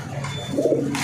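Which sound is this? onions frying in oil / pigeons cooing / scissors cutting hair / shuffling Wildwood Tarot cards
pigeons cooing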